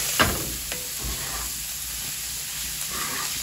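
Pasta fries on a hot griddle, a close, steady sizzle broken early on by a few sharp scraping and clanking knocks from a utensil. No voices are heard.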